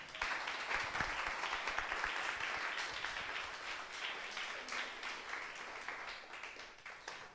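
A church congregation applauds steadily for a sermon, a dense, sustained wash of many hands clapping with no talk over it, easing slightly toward the end.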